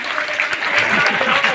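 Children clap together at a school annual function in Chhapar, a sustained burst of crowd applause with voices and chatter mixed underneath.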